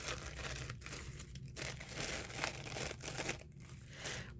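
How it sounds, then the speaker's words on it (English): Delicate tracing paper is handled near a desk, producing quiet, repeated crinkling and light tearing rustles that come in uneven bursts over several seconds. "The tracing paper."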